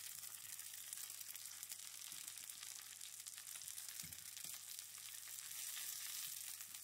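Fennel halves sear in a hot pan over fairly high heat, giving a steady, soft frying sizzle with scattered small crackles and an occasional faint knock.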